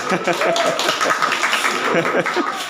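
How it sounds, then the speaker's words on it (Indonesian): An audience of mothers at a parenting session clapping, uneven claps from a small group mixed with light chuckles and voices talking over them, close and lively. "Tepuk tangan dulu."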